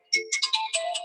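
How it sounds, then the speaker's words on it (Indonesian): A phone ringtone plays a short bright melodic phrase of about six quick electronic notes, moderately loud and close, with no voices over it. "Ada telepon."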